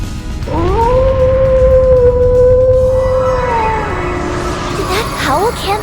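A wolf howls in the video game Trails into Reverie, one long sustained wail that bends down near the end, loud and close, with game sound and clattering effects rising beneath it and a brief voice at the close.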